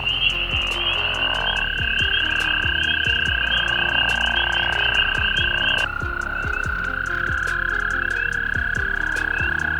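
A chorus of pickerel frogs calling continuously, with steady snoring croaks and a higher droning trill layered throughout, close and fairly loud with no talking.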